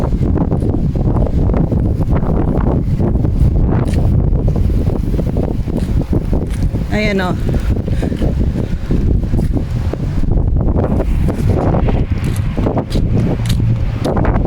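Loud, constant wind buffeting the microphone outdoors, with a brief voice speaking partway through.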